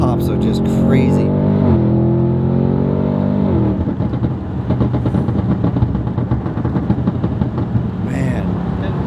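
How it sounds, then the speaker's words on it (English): Crackling exhaust pops from a tuned 1100 hp Audi RS6 Avant wagon accelerating hard, a loud rising engine drone with sharp bursts over a steady roar, heard from inside the car. "Those pops are just crazy."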